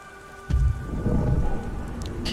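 Steady rain with a deep rolling thunder rumble that swells at about half a second and lingers, heard during a stormy scene in the video game Beyond: Two Souls.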